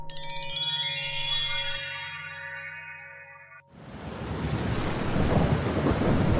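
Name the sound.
heavy rain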